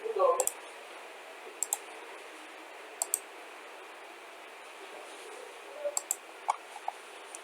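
Sharp computer mouse clicks land in small pairs and singles, several across the stretch, close by and fairly soft over a faint background hum while working in Surpac mining software.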